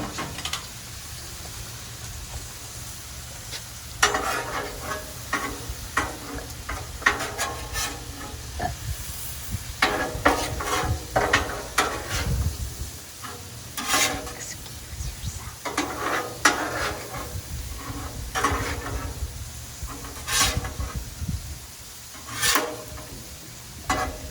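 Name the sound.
steak and butter sizzling on a Blackstone griddle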